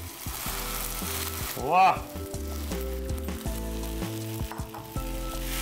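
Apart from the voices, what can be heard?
boiled rice frying and stirred in sizzling pan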